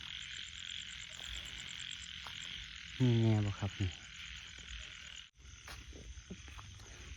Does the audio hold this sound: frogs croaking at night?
yes